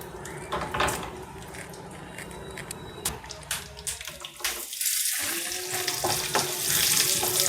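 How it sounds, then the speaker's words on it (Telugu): Dry coconut pieces, cashews and raisins frying in a pan for sweet pongal, a loud continuous sizzle with bursts of stirring and a brief dip midway before the hiss returns. "చూడండి, బ్రౌన్ కలర్ వచ్చేదాకా ఫ్రై చేసుకోవాలి"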